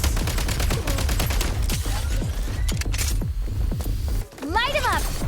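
Video-game gunfire in a snowy battle level: rapid, loud bursts of shots and mechanical clicks keep firing close and nearly nonstop, ending in a brief lull before a whooshing effect.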